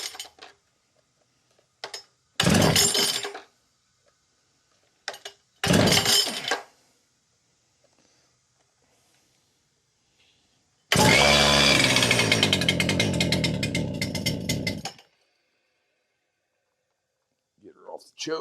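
A Stihl or Makita concrete saw with a new head and piston, pull-started: several short rough bursts, then a longer loud engine run of about four seconds that cuts off, nearby, with quiet gaps between.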